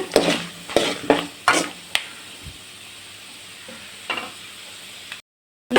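Tempering for tamarind rice: spices and ingredients added to hot oil after mustard seeds splutter, with sharp crackles and pops early on, then quieter sizzling and a few clinks of stirring near the end.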